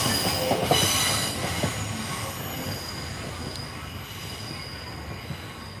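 A freight train rolls steadily past nearby, wheels squealing high over a continuous low rumble and rattle of cars.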